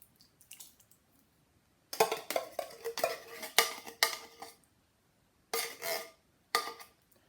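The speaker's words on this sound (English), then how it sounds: "you want to add your 2 tins of chopped tomatoes" Two tins of chopped tomatoes are emptied into a slow cooker sausage casserole in a home kitchen: bursts of metallic clinks and scrapes with wet plops, close and fairly quiet, separated by brief silences.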